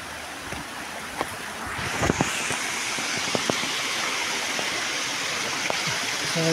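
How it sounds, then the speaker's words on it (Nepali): Water rushes along a kulo, the channel that feeds a traditional Nepali gharat watermill, in a steady broadband gush, with a few faint knocks and clicks mixed in and no speech. "यसरी कुलो लगायो भने कुलोमा पानी गयो"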